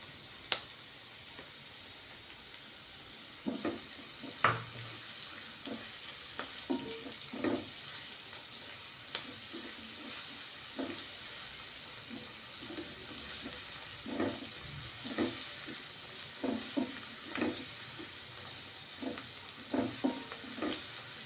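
Onion sizzling in a pan for a Punjabi-style vegetable curry, with steady soft frying hiss and repeated stirring scrapes spaced every second or so, fairly quiet and with no voices.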